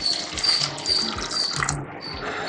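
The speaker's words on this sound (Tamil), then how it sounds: "அதோட இந்த தண்ணியை ஊற்றிக்கலாம்." Water splashes and pours steadily into a pan of sautéed onions for vada curry, close by, with a faint metallic clink or two, continuous for a couple of seconds.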